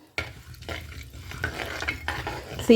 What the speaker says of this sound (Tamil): நம்ம இப்போ கடுகு வெந்தயத்தை ஆட் பண்ணிக்கலாம். கடுகு கொஞ்சம் பொரியட்டும்.